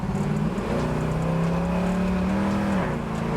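A 1968 Camaro SS pulls hard under acceleration, its engine note rising steadily and close, then dipping briefly as it shifts into second, with a quick tire chirp at the change.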